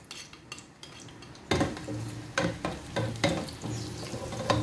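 Onions fry in hot palm oil in a pot, a steady sizzle broken by repeated clinks and scrapes of a utensil stirring against the metal, close and clear.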